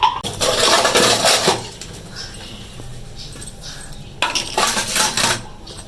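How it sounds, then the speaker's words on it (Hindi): Dishes, pots and pans are washed by hand in a home kitchen, with clattering metal and cutlery clinks in two busy bursts separated by a quieter stretch of running water and rattling. "मुझे चले हाथ के साथ बर्तन भी धोले।"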